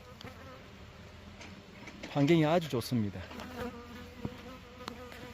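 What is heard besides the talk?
native Korean honeybees (Hanmaek bees) buzzing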